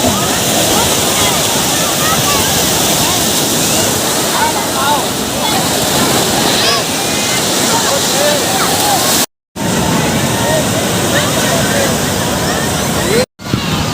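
Sea waves wash continuously at a summer beach, a loud, broad rushing surf that fills the whole stretch with only two brief dropouts, with people talking over it.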